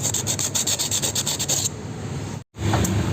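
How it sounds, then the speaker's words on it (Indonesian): Sandpaper rubs back and forth over a ground-down tear in a plastic car bumper, rhythmic close scraping strokes for a second and a half, then a softer continuous rub, a brief pause and a final short scrape. "kita amplas perlahan-lahan untuk membantu perekatan lem plastik steel"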